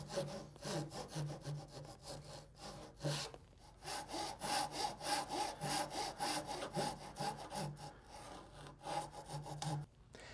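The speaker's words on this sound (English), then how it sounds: "I'm going to start the saw at the back and then drop it down" A hand saw cuts through wood for kumiko lattice in quick back-and-forth strokes, close and rhythmic, with brief pauses between bursts.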